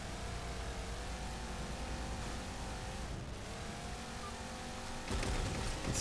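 A vehicle in the shooter game Halo 4 drives with a steady engine drone and shifting revs, moderately loud, with a rougher burst of noise in the final second.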